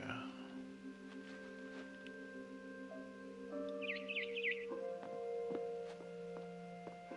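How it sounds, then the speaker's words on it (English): In the video game What Remains of Edith Finch, a barn swallow outside a window gives a short burst of quick, high chirps, faint against soft sustained background music. "Then I heard chirping outside my window. It was a barn swallow going back to her nest."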